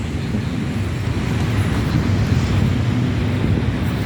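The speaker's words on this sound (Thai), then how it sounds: "ตอนนี้ก็ลมว้อยว้อยได้ทุกคนนะลมว้อย" Steady wind rushing through a park with coconut and sugar palm trees in central Bangkok, a constant broadband roar holding even and fairly loud throughout with no talking.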